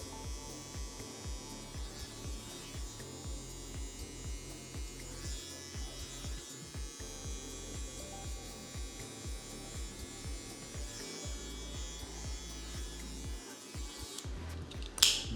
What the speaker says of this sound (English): I'm gonna mark up all the edges with a trimmer